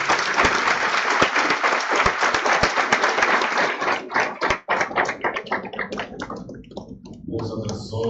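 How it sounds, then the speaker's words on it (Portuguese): Loud, dense applause from a crowd at a Catholic Mass for the Solemnity of Saint Anne, steady clapping with a few sharp claps standing out, thinning toward the end. "Dá salve de palmas para a professora."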